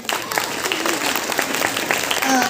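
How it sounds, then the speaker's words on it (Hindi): Loud applause from a school audience at a 26 January event in Khalilabad, dense and close, with a voice briefly audible near the end. "इनके लिए जोरदार ताली बजाई जाए"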